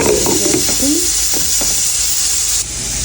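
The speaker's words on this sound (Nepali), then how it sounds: "त्यसपछि यो भेन्टा पनि हाल्दैछु। अब मजाले चलाउनुपर्छ।" Eggplant sizzles in a hot pan while being stirred for a Nepali potato and eggplant curry, giving a loud, continuous frying hiss with scraping and clatter from the stirring in the first half.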